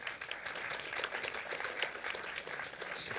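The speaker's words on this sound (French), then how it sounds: "oui, on peut les applaudir." Audience applause at a festival awards ceremony closing night, a steady dense patter of many hands clapping throughout, moderately loud and continuous with no voices standing out.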